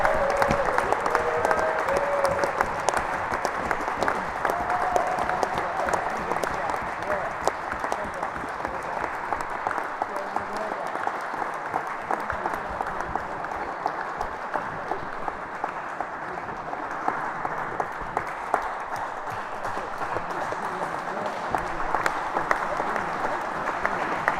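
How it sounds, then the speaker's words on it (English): Spectators at the British Open Doubles rackets final applaud the runners-up Jamie Stout and Peter Cipriano with sustained, steady clapping that carries on evenly for over twenty seconds in an indoor court. "Please, a big round of applause for Jamie Stout, Peter Cipriano"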